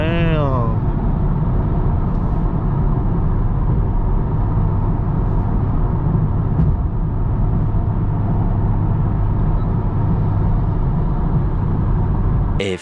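Loud cars idling and rumbling at a car meet, a continuous heavy low engine drone close by, with brief voices near the start and end.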